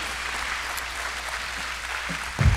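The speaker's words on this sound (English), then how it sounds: "Let's give our guys a round of applause." Audience applause at a graduation ceremony, steady crowd clapping heard at moderate distance in a large room, ending with a brief louder thump near the close.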